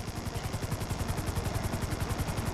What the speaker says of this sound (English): Just hold the chopper here.